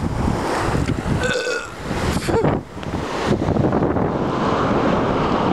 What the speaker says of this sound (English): Nice, fresh ocean waves.